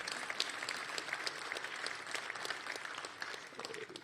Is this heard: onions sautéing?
no